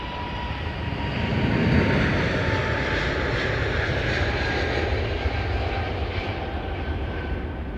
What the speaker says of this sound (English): Thomas, Emirates International 767.